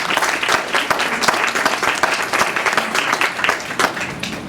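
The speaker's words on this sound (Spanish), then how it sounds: "Le damos un aplauso a la doctora Gabriela Díaz." Audience at an academic symposium applauds a doctor, a lively burst of clapping with distinct individual claps rising and falling in a steady, close wash.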